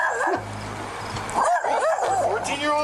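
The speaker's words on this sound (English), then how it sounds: "Oh, that's a dog." A dog barks and yips in a few short, high bursts, some whiny and rising, close enough to stand out over a person speaking at the same time.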